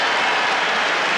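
A hurling crowd at the 1998 National Hurling League semi-final, Cork against Clare, cheering and applauding Cork's first point in a steady, loud, continuous roar throughout the short moment.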